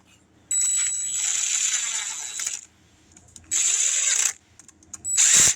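Three bursts of an impact driver whirring and rattling at close range, separated by brief quiet gaps.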